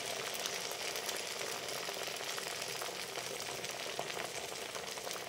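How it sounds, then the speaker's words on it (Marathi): Sabudana vada deep-frying in very hot oil, a steady, fine crackling and sizzling hiss that stays even and moderately quiet throughout, with no talking. "आता आपण हे वडा तळून घेऊ।"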